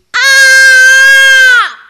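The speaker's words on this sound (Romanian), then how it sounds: "Să văd cât de tare poți să strigi." Someone shouts as loudly as possible, one long sustained high-pitched yell held steady for about a second and a half, close and very loud, then cut off sharply.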